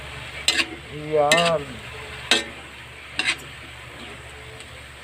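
Grated papaya for escabeche being stirred in a pan, a few short scraping and sizzling strokes spaced through the moment, with a person talking briefly over the cooking.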